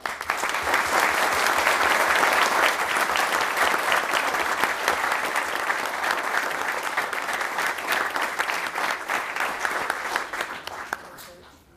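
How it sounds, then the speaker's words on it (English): Sustained audience applause fills a city council workshop meeting in La Vergne, steady and loud for about eleven seconds before tapering off at the end. "Can we give them all another round of applause?"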